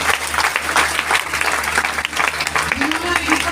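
An audience at a DXN motivational meeting breaks into dense, sustained applause, loud and continuous with many hands clapping at once and a voice faintly heard beneath it.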